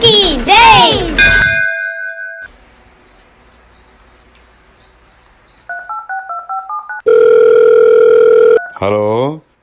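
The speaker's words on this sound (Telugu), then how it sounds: "ఎంఆర్పి గారు, చాలా కాలానికి ఫోన్ చేశారు" A telephone sounds before a call, with a repeating pulsed ringing tone, then a sequence of shifting electronic tones and a long steady beep, loud and close, following a brief burst of other sound at the start.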